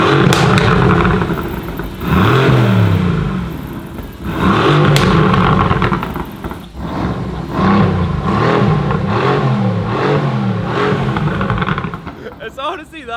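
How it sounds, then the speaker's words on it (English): A car's loud exhaust with its valves open, run with a tune, revs repeatedly in rising sweeps, popping and crackling between pulls, with voices talking over it. "It's got some pops, it's got some crackles, but that's because of the tune as well."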